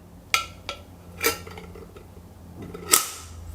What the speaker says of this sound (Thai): เดี๋ยวเราปิดฝาให้ดูกันนะครับ